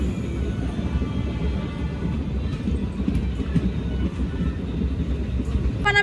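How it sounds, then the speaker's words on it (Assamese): A passenger train in Assam rolling along, heard from inside the carriage as a steady low rumble and rattle, with faint murmuring voices underneath. "ট্ৰেইনত উঠিলোঁ, ফাইনেলি ট্ৰেইনত উঠি গৈ আছোঁ।"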